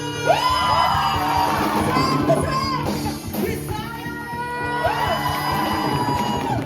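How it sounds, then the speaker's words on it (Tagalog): A large church congregation shouts and cheers together during praise and worship, loud and sustained, with voices rising in two big swells over a steady roar. "Ang lahat ay sumigaw, mga taga Luzon!"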